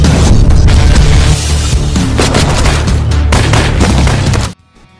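Loud, rapid gunfire from a film shootout, with dense overlapping bursts and booming shots that cut off abruptly into near silence just before the end.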